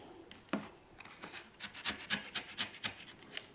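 A utility knife cuts through a lid in a series of short scraping, rasping strokes, close and fairly quiet, with no talking.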